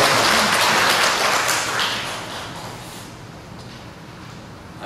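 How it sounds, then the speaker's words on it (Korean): A church congregation applauds, a dense wash of clapping that starts loud and full, then gradually thins and fades over several seconds. "네, 박수 부탁드립니다."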